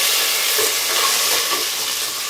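Curry leaves sizzle loudly in hot oil for a tempering, a dense, close frying hiss with stirring underneath that holds steady for a couple of seconds.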